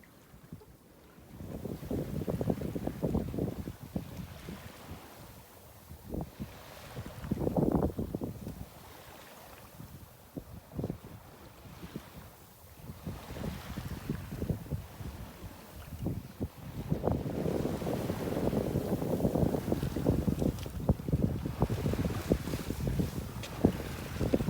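Sailboat running on a broad reach in a steady offshore breeze while heading south down the coast at about three knots, with continuous wind buffeting and water rush that swell and ease, and no talk.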